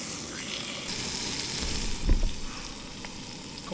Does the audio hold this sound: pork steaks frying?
yes